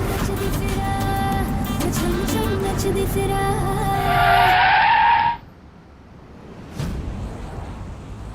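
A car skids hard to a stop in a Hindi TV drama scene, a loud sustained tire squeal rising over engine and music before cutting off abruptly, followed by quiet and a faint later thump.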